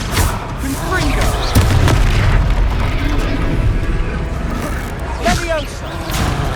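The Confringo spell exploding in Hogwarts Legacy: deep, loud booming blasts over continuous rumbling battle noise, with voices heard during the fight.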